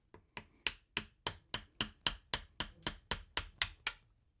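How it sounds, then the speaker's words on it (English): Sharp metallic hammer blows strike in a steady, even rhythm, about fifteen hits in quick succession, close and clear with no voices. "I'm going to take a nice clean screwdriver and a hammer and drive it through these holes"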